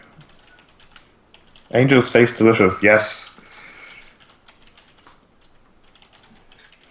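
Light clicking from typing on a computer keyboard during an online tabletop roleplaying session, faint and scattered, with a voice speaking briefly over it.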